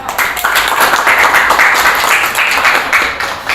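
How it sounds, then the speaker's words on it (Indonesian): Classroom audience clapping after a group presentation on warehousing, loud and close, a continuous busy patter of hands that holds steady for a few seconds. "beri tepuk tangan untuk mereka"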